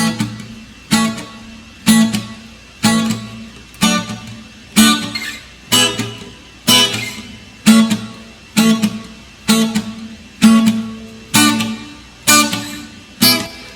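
Reggae guitar chords strummed in short, evenly spaced stabs, each ringing briefly and fading before the next, close and loud.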